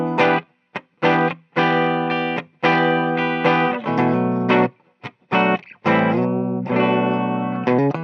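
A 1998 Gibson Les Paul Doublecut Standard electric guitar on its bridge pickup plays loud, driven chords in choppy bursts with brief gaps, close and up front with no voice.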